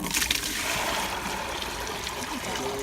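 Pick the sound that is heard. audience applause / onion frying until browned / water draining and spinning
water draining and spinning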